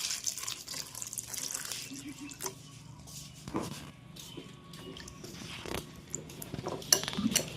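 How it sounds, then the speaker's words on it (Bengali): Raw mangoes are washed under a running tap, with water splashing and trickling steadily over them, punctuated by occasional knocks and drips close by. "এবার আমগুলোকে ভালো করে ধুয়ে নেব।"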